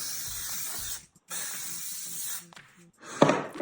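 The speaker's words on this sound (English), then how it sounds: "I'm gonna give it a spray" Hairspray can hissing onto curled blonde hair in two long close bursts with a brief gap, followed by a shorter spritz and a small clatter as the can is handled.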